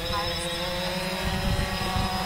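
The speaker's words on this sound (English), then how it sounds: "We have rotation, throttling up." Small UAS drone motors throttle up for takeoff, giving a steady whirring hum over broad rushing noise that lasts the whole moment.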